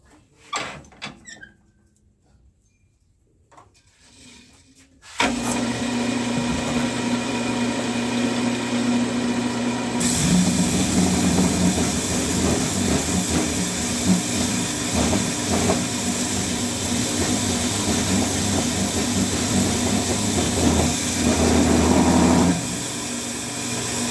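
Wood lathe spinning a segmented cherry vessel during sanding; after a few quiet seconds it starts abruptly into a loud, steady whirring hiss with an underlying motor hum that runs continuously.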